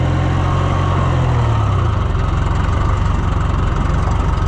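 A tractor engine idles in a farming video game, a loud, steady low rumble with a deep pulsing throb that shifts slightly in pitch partway through, with no talk.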